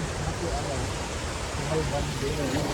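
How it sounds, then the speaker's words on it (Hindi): Steady broadband rush of the Krang Shuri waterfall swollen with rainwater, a constant roar close by with faint voices murmuring underneath. "अभी आप सबको दिखाने जा रहा हूँ फाइनली वाटरफॉल, यानी कंसूरी वाटरफॉल"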